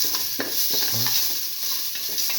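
Food sauteing in clarified butter with salt gives a loud, continuous close sizzle, broken by a few quick spatula scrapes and taps against the pan, with no voices.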